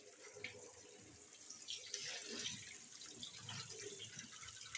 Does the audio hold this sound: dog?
no